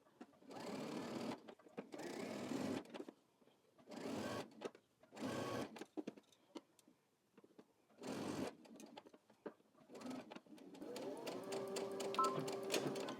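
Sewing machine stitching a seam on a men's button-up shirt in several runs of steady whirring, each stopping and starting, faint and close, with quiet rustling of fabric between bursts.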